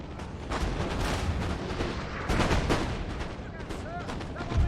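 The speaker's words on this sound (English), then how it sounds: "They're actually firing at my cannons." Napoleonic-era cannon and musket fire in Napoleon: Total War, a battle din of repeated booms and crackling volleys layered over one another, with voice lines heard during the barrage.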